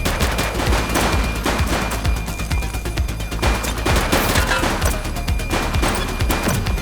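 Gunfire crackles in The Precinct police game, a dense run of overlapping shots and impacts at mid distance, continuous and busy across the whole moment with no clear speech.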